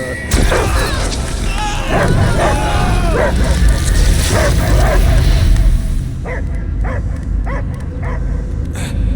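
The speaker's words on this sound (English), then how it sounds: "I hear only barking." Loud, dense sound from the video game Guardians of the Galaxy, with rumbling booms and voices, and a dog barking in repeated sharp yelps toward the end.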